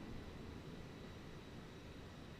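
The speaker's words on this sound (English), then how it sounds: "See, I can hear another plane" Another aircraft flying nearby in Microsoft Flight Simulator gives a faint, steady engine drone that holds evenly throughout with no talking.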